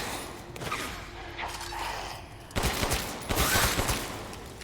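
Gunfire in Resident Evil Village: a few loud shots and bursts in the second half, following quieter game sounds.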